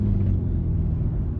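A BMW M5 Touring estate being driven, a steady low engine rumble and road drone heard from inside the cabin, constant and fairly loud with no speech over it.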